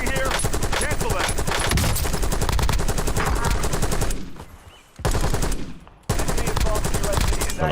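Dense rapid automatic gunfire in Warzone fills the clip, loud and sustained, briefly dropping out twice before the bursts resume.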